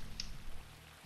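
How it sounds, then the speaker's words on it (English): Soft, steady rain patter in the video game Paradise Killer fills the background as an even hiss, with a low hum underneath and a brief bright tick near the start. "But the rain's sound effects."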